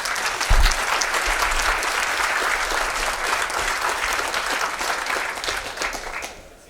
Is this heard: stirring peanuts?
no